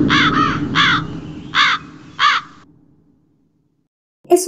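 A crow caws five times in a quick ragged series, loud and close, followed by silence and one more abrupt caw at the end, used as a channel intro sound.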